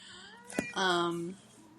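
A house cat lets out a single drawn-out meow, close and fairly loud, after a brief tap, in a quiet room.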